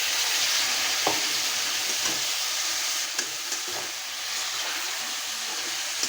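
Mushrooms sizzle steadily in hot spiced oil with a constant hiss, broken by occasional soft clicks of stirring; no voices.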